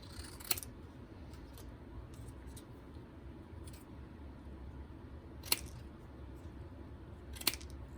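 Scissors cut a piece of magenta paper with a few sharp, quiet snips spaced seconds apart over a faint background hush.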